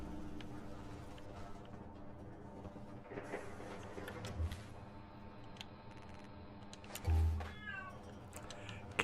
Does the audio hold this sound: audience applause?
no